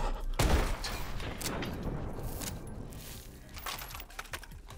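Blunderbuss fired in Call of Duty Advanced Warfare: a sharp low blast at the start followed by a long, dense scattering rattle and clatter that trails off, with a few faint later pops.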